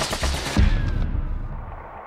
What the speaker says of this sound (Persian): ناگهان با رگبار گلوله خودروی او متوقف می شود